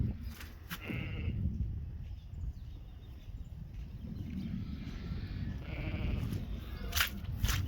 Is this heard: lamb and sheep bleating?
yes